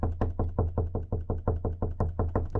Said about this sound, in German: Jetzt hat hier einfach einer geklopft